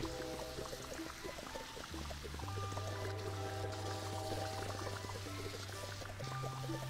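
Water pours in a steady rush over a low, humming musical backdrop, continuous and fairly close, from the game Fresh Start Cleaning Simulator.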